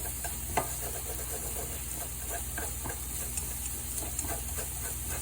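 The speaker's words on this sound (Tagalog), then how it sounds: "Sagisa tayo mga guys." Pan sautéing in olive oil until brown for pepperoncino pasta, a quiet steady sizzle with faint scattered pops and stirring clicks, close and unaccompanied by talk.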